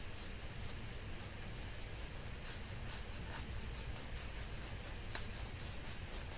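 Scissors cutting out paper coloring pages, close and fairly quiet, a steady run of small snipping strokes over a soft rustling background, with no talking.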